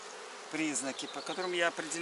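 Close, steady honeybee buzzing from an open hive with wavering pitch, several overlapping drones rising and falling, like bees swarming around nearby.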